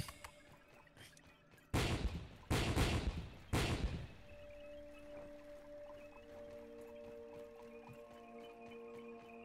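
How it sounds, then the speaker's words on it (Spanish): Exploding larvae in the survival game Grounded burst in three loud, sharp blasts like gunshots, close together, then give way to a quieter game ambience with steady tones. "Diablo, eso suena como si fuesen tiros"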